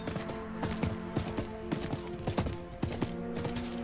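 Hooves of a horse mount in Diablo IV clip-clop at a steady walking rhythm, close and clear over a low droning game ambience, with no speech.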